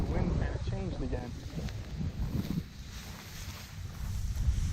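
Wind blows across an open outdoor field during pointing dog bird training, a steady broadband rush and buffeting that runs the whole way through, with someone talking over it early on.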